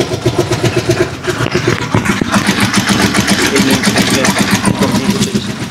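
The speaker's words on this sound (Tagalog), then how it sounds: "Ito yung matay-matay siya, mababa yung motor." A Rusi Chariot 175 motorcycle engine runs at a low, uneven idle, a steady loud mechanical rumble with rapid firing pulses throughout, close to the listener.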